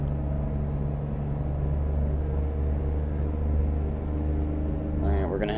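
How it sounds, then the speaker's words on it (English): A deep, steady engine rumble from a heavy truck's Jake brake in American Truck Simulator holds throughout, low and continuous, with a brief rising tone near the end. "the Jake brake sounds good on this truck."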